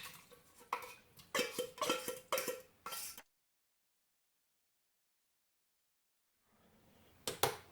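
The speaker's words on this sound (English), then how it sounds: "I'm just going to dump it all in the Instant Pot the way it is" Canned chicken tipped into an Instant Pot and stirred, a quick series of close metallic clanks and scrapes from can and spoon, then a stretch of silence before a few more clinks.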